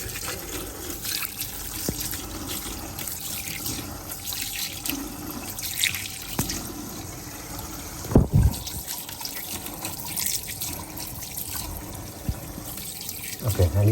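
Konjac rice is rinsed under running tap water in a sink, a steady close splashing flow with a few louder sloshes, while a person talks over it.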